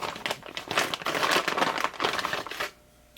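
Plastic bag crinkling and rustling up close, a steady run of crackly handling noise for a few seconds before it stops.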